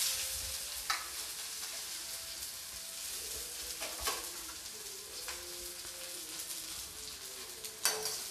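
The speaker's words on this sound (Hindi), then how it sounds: "और इसको मैं हल्का सा भून लूँगी, गोल्डन ब्राउन नहीं करना है।" White part of spring onion frying lightly in a pan with crackling cumin, a soft continuous sizzle with a few sharp spoon clinks and stirring scrapes, quiet and close with no voices.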